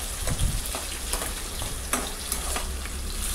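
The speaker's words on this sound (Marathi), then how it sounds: "तर आता याला आपण छान मिक्स करूया, तेलात फ्राय करून घेऊया।" Onion, garlic and tomato frying in oil for a matki usal, a dense, loud sizzle with occasional stirring scrapes and knocks from a spoon in the pan.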